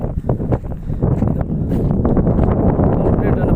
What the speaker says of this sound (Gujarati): અને પવન પણ મસ્ત એકદમ પવન આવે છે